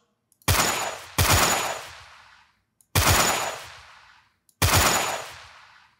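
Four loud, sharp gunshot blasts from a shooter game built in Unity, each with a long decaying tail, spaced unevenly over a few seconds, synthetic and game-like.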